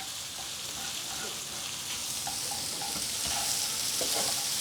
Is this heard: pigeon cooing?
no